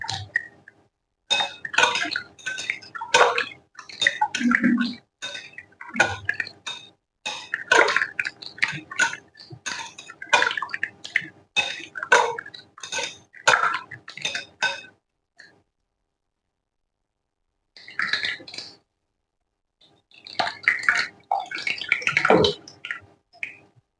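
Tamarind is squeezed and dissolved by hand in a bowl of water, giving a quick run of wet squelches, drips and light clinks, then a pause and a few more bursts.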